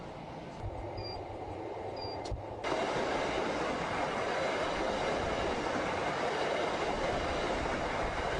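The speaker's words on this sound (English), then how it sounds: "This train trip takes only 15 minutes." Steady rolling rumble of a passenger train running from Mina to Arafat, close and continuous. A few faint chimes come early, then the noise swells abruptly a few seconds in and stays loud to the end.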